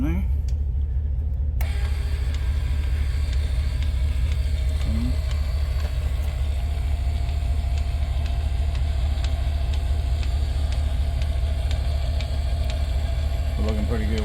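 A truck engine runs steadily throughout, a constant low rumble close by with faint clinks and light rattles over it during a rock guard install on a Blazer car trailer.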